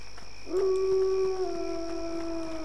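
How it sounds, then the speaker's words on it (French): Wolves howl in the Neverwinter Nights video game, one long, clear, steady howl rising and then sliding gently lower, loud and close over a soft ambient drone, with no talking. "Ah, on entend des loups, tu vois."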